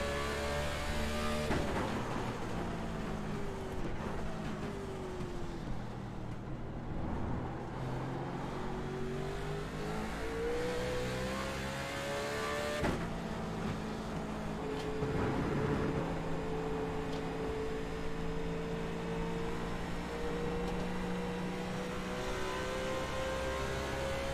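A NASCAR race car in iRacing at Watkins Glen roars continuously, its engine revving up through the gears with pitch climbing and dropping at shifts, loud and sustained with no talk.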